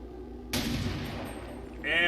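A single loud gunshot in a video game bursts out suddenly and decays into a lingering noisy tail, followed by a brief higher ringing sound, with no one talking over it.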